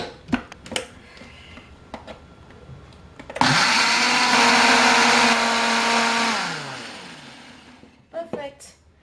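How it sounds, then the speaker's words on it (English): A blender grinds onions with water, whirring loudly for about three seconds, then winds down, with soft clinks and handling sounds before and after. "the blender won't grind it at all if you don't put in any water"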